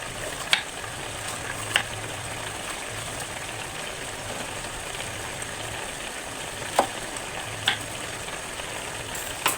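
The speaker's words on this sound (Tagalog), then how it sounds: "Ayan, kumukulo na siya." Squid adobo in coconut milk simmering in a pan, a steady low bubbling and soft sizzle throughout, with a few sharp clinks standing out at intervals over the even cooking noise.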